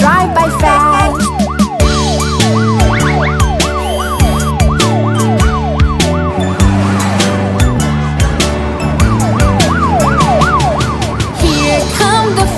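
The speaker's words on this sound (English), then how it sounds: "Hear the sirens shout real loud, let our trucks move past." Cartoon fire truck sirens wail in a fast, repeating up-and-down pattern over a loud, busy children's song with steady music throughout.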